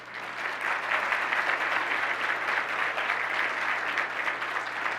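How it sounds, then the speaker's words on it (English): A steady round of audience applause at an honors brunch, dense even clapping from a seated crowd, moderately distant and continuous for several seconds. "yes, applause for them"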